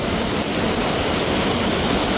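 Floodwater surging higher and spilling over submerged stones, a steady, loud, dense roar of rushing water that never lets up, with no voices.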